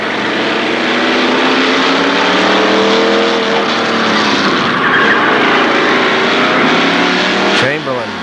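Race cars roar around the oval at Kil Kare Speedway during the Labor Day Championships, engines loud and sustained as the pack passes close, one car lapping another, with a commentator talking over the noise.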